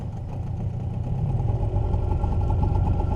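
A Suzuki 9.9A outboard motor runs in forward gear at low throttle during break-in, making a steady, moderately loud mid-pitched hum that builds slightly and holds even.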